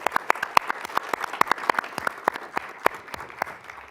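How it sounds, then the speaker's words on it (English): Applause at a regional transportation commission meeting: a small group clapping steadily, close and fairly loud, with individual sharp claps standing out throughout. "big round of applause for Dave and the many years of service"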